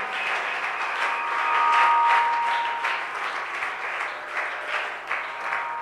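Congregation applauding during a church worship service, a sustained wash of clapping from many hands that swells slightly midway and holds steady throughout, with a faint sustained tone beneath.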